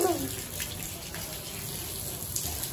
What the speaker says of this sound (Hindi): साईं की हो रही है साइकिल वॉश